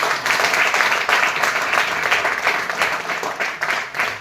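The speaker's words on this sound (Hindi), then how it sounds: "एक बार जोरदार तालियां कुमार सर के लिए" Audience applause for Kumar at a motivational seminar, a dense, steady wash of clapping that stays loud and even for the whole stretch with no talk over it.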